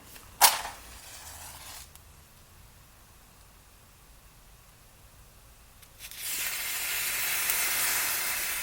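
Homemade black powder mixed with finely powdered magnesium, lit outdoors with a magnifying glass, flares with a sudden sharp whoosh, then a long steady hiss of burning roars up loud near the end.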